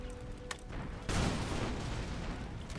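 Musket volleys and cannon fire in the Napoleonic-era game Imperial Splendour, with a lone crack followed by a sudden loud fusillade that bursts out and rumbles on as sustained distant gunfire.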